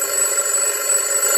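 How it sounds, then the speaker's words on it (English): An alarm clock rings in a Pocoyo cartoon, a continuous loud electronic ringing tone that holds steady and bright for the whole moment. "Pato has set his alarm."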